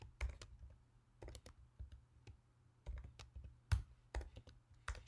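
Keys clack on a computer keyboard in short, uneven bursts of close, crisp taps, with quiet gaps between the runs.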